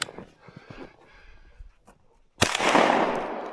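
A single loud gunshot blasts out during a ptarmigan hunt outdoors, a sharp crack followed by a broad, sustained roar of echo, preceded by quiet rustling and faint breathing.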